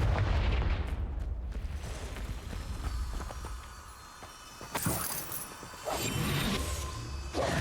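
Confringo fire-blast spell explosions in Hogwarts Legacy, heavy booming blasts with crackling bursts and rumbling debris, loud and repeated through the stretch without talk.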